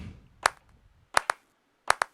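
An MPC clap sample played by finger drumming with a ghost-note articulation: a single crisp clap, then two pairs in which a quieter echo-like second hit follows closely behind the main clap, dry and close.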